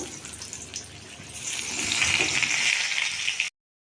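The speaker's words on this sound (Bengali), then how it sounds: "আর এদিকে দেখো বেগুনটা আমি ভাজতে দিয়ে দিলাম।" Eggplant frying in a pan, a hissing sizzle that swells louder midway and holds steady before cutting off abruptly.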